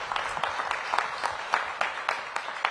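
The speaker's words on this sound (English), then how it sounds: "Give him another round of applause." An audience applauds at a mayoral press event in Washington, D.C., a steady wash of many hands with sharper individual claps popping out at a loose, regular rhythm, sustained and moderately loud throughout.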